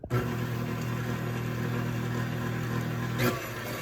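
A KitchenAid stand mixer runs at speed 2 with a steady, close motor hum and drone, its pitch even, briefly bumped by a clatter near the end.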